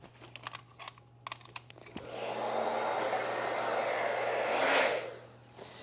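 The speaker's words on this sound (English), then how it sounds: "I'm gonna bring in the blow dryer." Light taps and clicks come first, then a hair dryer on its cool setting blows over an alcohol ink painting in a steady close whoosh for about three seconds before cutting off.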